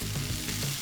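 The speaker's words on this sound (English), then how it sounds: "It's time to sizzle again." Portobello mushrooms and vegetables for fajitas sizzling and crackling in a hot pan, a dense, close, continuous fry.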